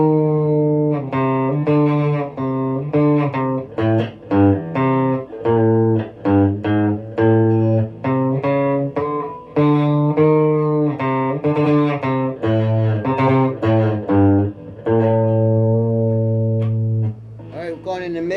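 Electric guitar played through the bridge pickup of a Squier Affinity Telecaster fitted with Tonerider pickups, with loud, distorted, sustained notes in a steady run of picked phrases, alone and close.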